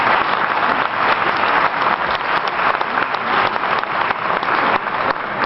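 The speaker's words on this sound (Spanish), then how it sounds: "El señor Ercole Felipa, un aplauso." Loud, dense applause from an audience at a political talk, continuous clapping from many hands filling the room without a break.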